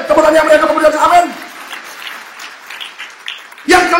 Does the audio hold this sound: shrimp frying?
no